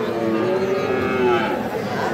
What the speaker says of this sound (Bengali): দুইটাই ষাঁড় বাছুর।